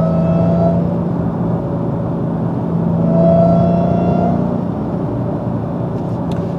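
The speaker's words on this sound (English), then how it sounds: "So why does a supercharger whine like this?" Supercharged manual Dodge Hellcat fitted with a Legmaker intake, a loud steady engine drone with a thin high whine riding over the rumble, swelling slightly mid-way, close and continuous with no talk.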